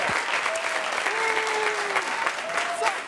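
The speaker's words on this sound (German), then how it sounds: "Einen ganz großen Applaus" Comedy show audience applauding a stand-up comedian as he takes the stage, a dense steady burst of clapping with a few whoops and cheers riding over it throughout.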